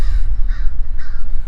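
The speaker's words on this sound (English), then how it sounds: "these birds will not shut up." Several crows caw loudly outdoors in two clear bursts, close and harsh, over steady low background rumble with no talking.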